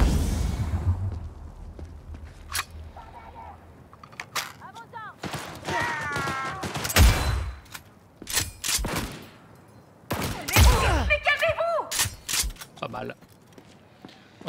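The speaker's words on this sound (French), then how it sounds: "C'est bon, il me tire dessus." Sporadic bursts of gunfire aimed at the player in Cyberpunk 2077, loud shots and short volleys broken by pauses, footsteps and mechanical clicks, with someone talking over much of it.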